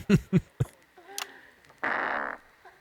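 A person blows a raspberry with the mouth to imitate a fart, a buzzing half-second burst that follows a few short thumps and faint chatter.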